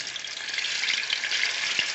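Seasoned chicken pieces frying in oil for stew chicken, a loud, steady, close crackling sizzle throughout with small pops, no voices.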